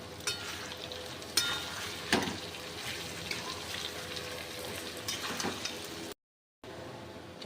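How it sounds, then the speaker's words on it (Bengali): A mango oil pickle is stirred after chili powder, salt and turmeric go in, giving a steady close scraping and mixing texture with a few sharper knocks and clatters along the way and a brief silent gap near the end. "এর মধ্যে দেবো লঙ্কার গুঁড়ো, লবণ আর হলুদ। ভালো করে মিশিয়ে নেব।"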